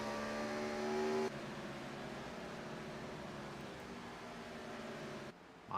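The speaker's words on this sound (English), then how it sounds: "Listen to how late before Carrington gets back to the throttle" Race car engine in a Gen 4 series racing video game at the Milwaukee Mile, a faint steady whine that drops off as the throttle lifts, then cuts out before resuming briefly.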